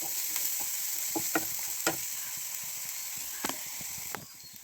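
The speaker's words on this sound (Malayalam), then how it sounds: "ഇതൊന്ന് മൂത്ത് ഇച്ചിരി ബ്രൗണായിട്ട് വരുന്നിടം വരെ നോക്കിക്കുക" Small shallots frying in oil until browned give a continuous close sizzle, punctuated by irregular clicks and scrapes from a spoon stirring the pan.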